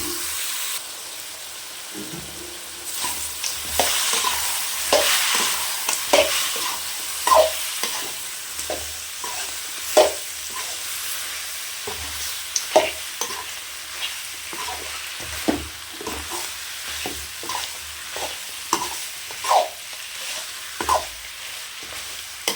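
Rabbit meat sautés in a hot pan with ground cinnamon and clove, a continuous sizzle broken by frequent scraping stirs of a spoon against the pan.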